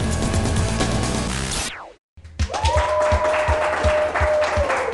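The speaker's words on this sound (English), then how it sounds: "That applause was for you." A TV studio audience applauds loudly for nearly two seconds. The applause then cuts to a brief silence, followed by music with a steady beat.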